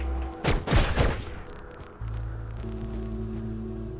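Rapid gunfire from the pixel-art action game Hyper Light Drifter, a quick burst of several sharp shots early on, followed by a low droning game ambience and steady hum.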